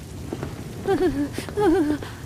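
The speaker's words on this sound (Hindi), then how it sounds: "ऐसे में बारिश भी भयंकर थी। बादल इतनी तेज गरज रहे थे मानो अभी फट जाएगा।" Heavy rain falls at a railway station as a steady, dense hiss throughout, with a wavering melodic tone rising over it twice and no distinct thunder.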